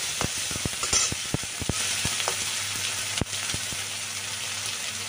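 Ginger paste and tomato fry with onion in a pan: a steady close sizzle under repeated sharp spoon taps and scrapes against the metal, with no voices.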